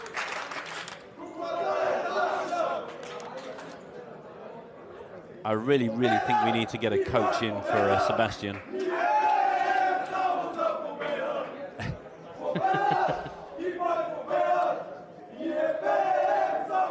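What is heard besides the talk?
poker crowd doing a Bulgarian chant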